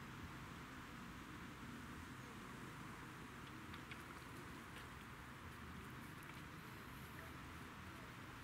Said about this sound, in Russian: Итак, начинается дождик